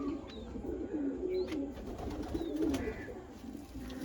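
A male pigeon coos softly and repeatedly nearby at a pigeon sale, low throaty calls rolling over a faint background murmur, with a few small chirps higher up.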